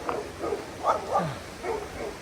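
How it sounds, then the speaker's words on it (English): Dog barking from a house beside the Appalachian Trail, several yips and barks in an uneven series, moderately distant and fairly faint over outdoor background. "And there's a dog."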